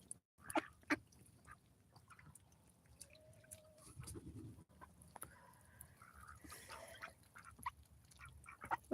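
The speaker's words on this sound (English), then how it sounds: "these are our ducks right here. They were our specialty in breeding. They're a heritage breed." Heritage breed ducks on a farm quack in scattered short bursts, moderately near, over a low steady background with other farm birds faintly mixed in.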